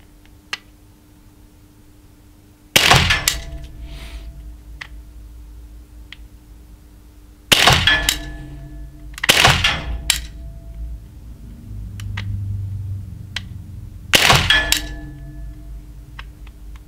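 A PPQ M2 Q4 TAC pellet pistol fires 4.5 mm diabolo pellets in four sharp, close shots spaced a few seconds apart, each a crisp snap with a brief metallic ring, over a quiet room hum.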